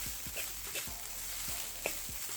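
Halibut fish fried rice frying in a pan gives a steady soft sizzle, with several light scraping stir strokes at a regular pace, close and fairly quiet.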